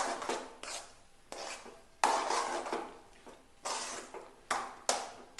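Potato masala with coriander leaves is stirred in a pan, giving about eight distinct scraping, rubbing strokes of a utensil against the pan, each a second or so long with brief pauses between, close and moderately loud.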